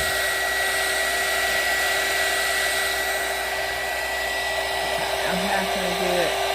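A hair dryer with no low setting blows on air dry clay, a loud, steady, close whir holding unbroken throughout, with a faint voice murmuring near the end.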